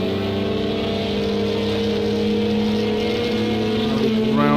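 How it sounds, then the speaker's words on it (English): A Toyota race car engine screams at high pitch in Project CARS 2 endurance racing at the Nürburgring, holding a steady sustained whine and rising slightly toward the end under a faint commentator's voice. "Barely hear the Audi's engine, just hear that screaming Toyota."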